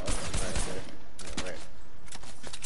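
Rapid bursts of gunfire from the video game Fortnite crackle in clustered volleys, sharp and close, with a player's voice talking over parts of the shooting.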